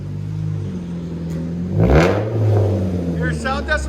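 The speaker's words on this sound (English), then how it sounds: "That sucker's loud." A 2006 Pontiac Solstice with a naturally aspirated 2.4L engine and muffler-delete exhaust revs loudly up close, rising to a peak and holding a steady low drone, with people talking over it.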